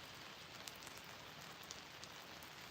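Steady rain falls on the Wisconsin River during a fishing outing, a dense even hiss of drops with a few brighter patters, constant and close throughout with no voices.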